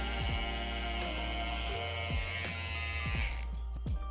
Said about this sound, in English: Let the clipper do his work.